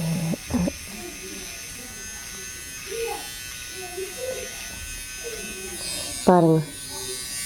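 An electric hair remover buzzes steadily at close range while it shaves hair from an arm, running under someone speaking Tamil, with a few louder vocal bursts.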